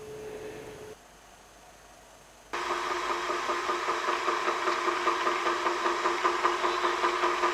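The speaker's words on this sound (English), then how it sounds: "Then, after being properly finished, he started his engine." A cartoon ferry boat's engine starts up after a short quiet gap, then settles into a steady, fairly loud mechanical chugging drone with a faint rattle that runs to the end.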